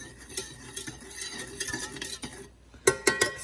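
A utensil stirs dye into liquid, clinking and scraping against the container in an uneven rhythm. It is close and fairly quiet, with a few sharper clinks near the end.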